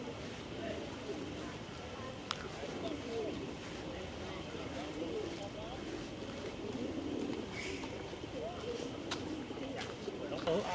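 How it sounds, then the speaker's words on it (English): Pigeons cooing at a designated feeding area in a historic city, soft repeated coos in a busy outdoor scene with people talking nearby and faint background hum. "Check out the designated pigeon feeding area."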